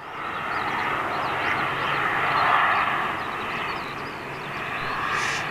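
Qatar Airways Boeing 787 Dreamliner moving at Manchester Airport, a broad steady jet roar at moderate distance that swells gently and holds, with no voices over it.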